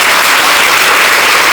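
Dense, steady applause from an audience at a temple birth-star festival celebration, loud and continuous with no pauses, filling the whole stretch without speech over it.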